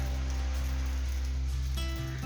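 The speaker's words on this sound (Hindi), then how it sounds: "अभी बारिश हो रही है" Steady rain patters continuously against a surface, with a low constant hum running underneath throughout.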